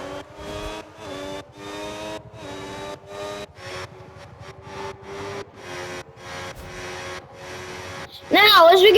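Formula 1 race cars at the Abu Dhabi Grand Prix scream past with high, pulsing engine notes rising and falling through gear changes, loud and steady, while a commentator talks over them.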